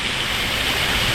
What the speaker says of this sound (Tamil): சம்மருக்கு ஒரு சூப்பரான ஏரியா சில் அவுட்டில் இந்த வாட்டர் ஃபால்ஸ் தாங்க